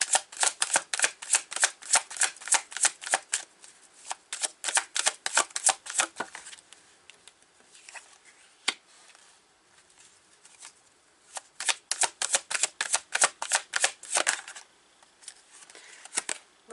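Playing cards are riffle-shuffled in quick, crisp bursts of fluttering clicks, close up, with a quiet pause in the middle before another run of rapid shuffles.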